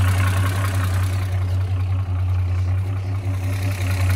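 A Chevrolet Opala SS with a carbureted 250S six-cylinder engine idles steadily up close, a low, even rumble with a constant hum and no voices.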